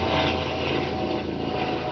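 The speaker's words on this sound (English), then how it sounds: "That helicopter probably on its way to the trauma center." A helicopter headed toward a nearby trauma center drones overhead, its rotor and engine a steady, fairly loud broadband rumble that holds for the whole stretch with no speech.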